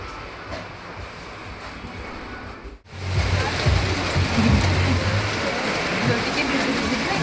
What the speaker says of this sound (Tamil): மழை கொஞ்சம் இங்க பாருங்க நடுல